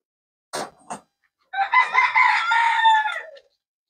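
Fayoumi chickens on a hen farm: two short clucks, then a loud, close rooster crow lasting about two seconds, with no talk.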